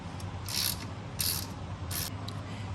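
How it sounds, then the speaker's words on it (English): Ratchet tightening cold air intake clamps on a 2017 Ram 3500, three short bursts of quick metallic clicking close to the mic, evenly spaced over a low background hum. "tighten those down, make sure all those sealed correctly"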